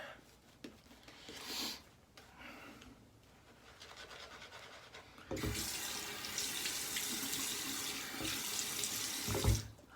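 Water runs from a tap in a steady stream, quieter at first with soft handling sounds, then a louder, fuller gush through the second half.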